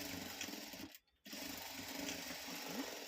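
Sewing machine running steadily while stitching folded fabric for a simple dori design, a continuous close whirr that cuts out briefly near the middle and then resumes.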